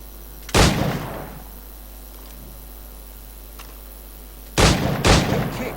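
Gunshots in Assassin's Creed 4 Black Flag: a loud, close shot with a booming tail, then a quiet pause, then two more quick shots a moment apart, each decaying with a rumble. No voices.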